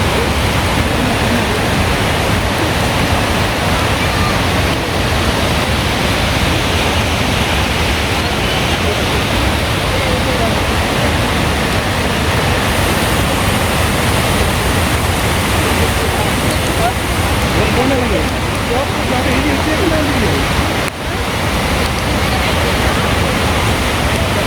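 A rain-swollen waterfall in Wales roars with a dense, constant rushing wash, close and loud, with voices faintly talking beneath the water noise.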